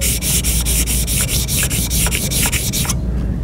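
A steel card scraper is rubbed flat against a sharpening stone under light finger pressure, making loud, rhythmic gritty strokes of about a dozen quick back-and-forth passes that stop abruptly near the end.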